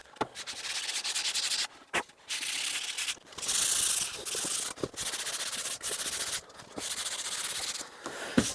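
Hand sanding of dry antique furniture wood, with long, steady abrasive strokes broken by short pauses, close and fairly quiet.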